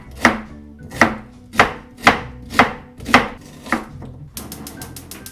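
A knife chops an onion on a cutting board, about seven sharp, evenly spaced thuds close by, then a quick burst of faster, lighter cuts at the end, with no voices.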